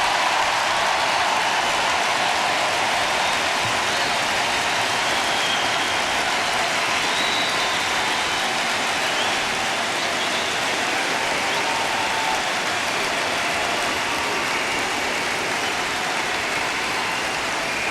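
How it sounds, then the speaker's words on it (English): A huge convention hall crowd at the 1996 Democratic National Convention in Chicago cheers and applauds loudly, a dense, unbroken roar of clapping and shouting that holds steady throughout. "You cheer now"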